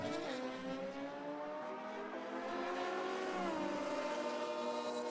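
Kawasaki drag racing motorcycles launch side by side on a qualifying run, their engines screaming loudly with rising, shifting pitch throughout and nobody talking.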